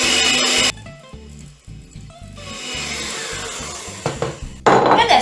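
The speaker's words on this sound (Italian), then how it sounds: "Io adesso ho una mano impegnata a mantenere il frullatore e una mano che verso il cioccolato." Handheld immersion blender running in a bowl while melted chocolate is poured in for a butter-free dark chocolate cake batter, a steady close motor whir with shifting load, loudest at the start and end.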